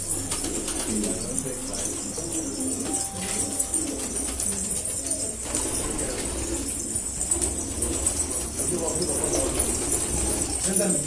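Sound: pigeons cooing at a pigeon-selling coffeehouse in Gaziantep

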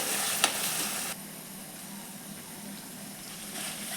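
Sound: masala spice paste sizzling while roasting in a pan

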